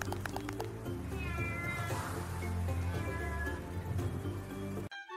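A cat meows close by in drawn-out, wavering cries that run almost continuously, loud and clear with no talking, then stop abruptly at the end.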